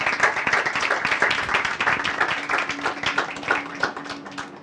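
Steady applause from a conference audience after a lecture, many hands clapping at once throughout, fairly loud and close, with no talking.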